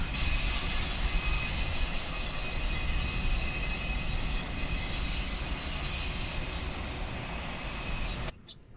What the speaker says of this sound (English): we got engine number 1 coming up nicely